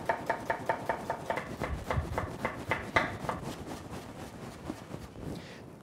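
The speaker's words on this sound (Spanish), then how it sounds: "vamos a coger una cebollita, la picamos muy" A knife chops an onion very finely on a board, a quick run of close, crisp taps in a steady rhythm that soften and thin out toward the end.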